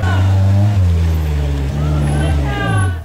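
A rear-wheel-drive rally car driving through snow on a left-hand bend at a Polish memorial rally, its engine roaring loud and close with a deep rumble and shifting pitch throughout.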